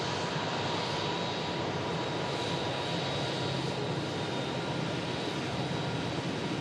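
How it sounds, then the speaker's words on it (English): An Emirates Airbus A380 jet airliner roars steadily at an airport, a broad, even engine wash holding at moderate level throughout with no talk over it. "Emirates A380."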